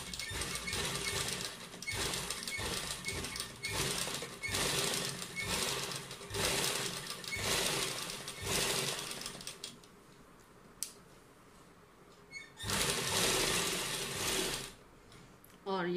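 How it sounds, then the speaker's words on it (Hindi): A sewing machine stitches along the edge of a Punjabi suit in several rapid rattling runs separated by short pauses, close and fairly quiet, with someone talking softly during the stops. "अब यहाँ से किनारे से इसको सिलना शुरू करते हैं।"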